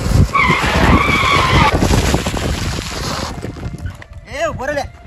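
A motorbike speeds by and skids, giving a loud rushing pass followed by sharp squealing chirps toward the end, with people talking over it.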